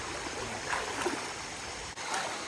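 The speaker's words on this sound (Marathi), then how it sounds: "हा, झरा आहे, तोच क्रॉस करायचा आहे बघा आपल्याला" A small stream crossing near a village, heard as a steady close rushing and trickling flow of water that stays even throughout, with no voices.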